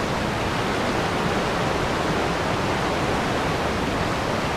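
Rain-swollen water pours over waterfall cascades in rainy Kerry, a loud, dense, unbroken roar from close by, with no voices.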